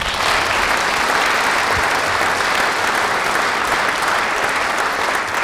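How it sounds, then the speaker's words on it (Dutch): An audience at a small-business spring congress in Wijchen with a government minister applauds steadily, a dense, even clapping from many hands that fills the room without pause. "Applaus sowieso alvast."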